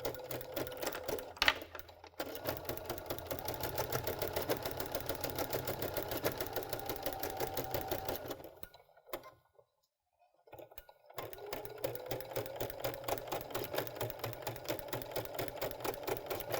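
A Baby Lock sewing machine fitted with a garment maker foot runs a steady, rapid stitch through fabric, pausing briefly midway before resuming at the same even pace, close and alone without talk.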